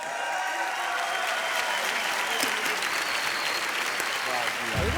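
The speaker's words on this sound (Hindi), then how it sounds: "वाह, जोरदार तालियां हो जाए।" A studio audience on a Hindi celebrity chat show breaks into loud, sustained applause, a thick wash of clapping that holds steady, with a voice and some music rising beneath it near the end.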